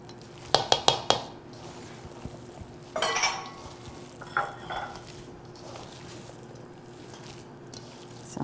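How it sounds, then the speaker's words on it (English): Chopped onions tipped into a pan over a campfire, a few sharp metal clinks then a burst of scraping and soft sizzling, fading to a quiet hiss with occasional stirs, close up, no voices. "And let's get those onions in there."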